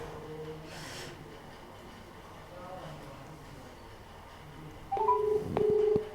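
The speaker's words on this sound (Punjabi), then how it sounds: "ਲਾਵਾ ਪਹਿਲਾਂ ਫੋਨ" A phone dialing: a short run of electronic beep tones near the end, over quiet room noise.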